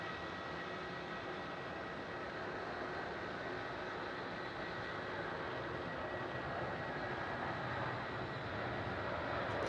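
An aircraft takes off at Melbourne Airport, a continuous broadband jet engine roar that stays loud and steady throughout, with no voices over it.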